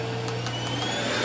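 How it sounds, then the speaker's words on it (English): A pet grooming kit's vacuum running at its level 3 setting, a loud, steady, close motor whine and airflow roar that holds evenly throughout with no talking. "how well does this thing work as just a standalone vacuum?"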